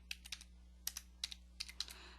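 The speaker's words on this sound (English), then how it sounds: "Let me even start typing." Keys clatter on a computer keyboard in short bursts of quick taps with brief pauses, close and clear over a low steady hum, with no voices.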